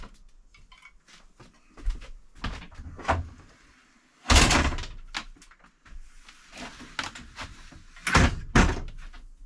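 Folding attic stairs in a remote off-grid Alaskan cabin are pulled down, a run of close wooden clunks, knocks and creaks ending in two heavier thuds as the ladder unfolds and lands.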